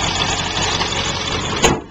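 A 2000 Ford Excursion's 7.3 liter diesel engine runs steadily, a loud, close, dense rumble with constant low clatter and a brief sharp tick near the end, no voices over it.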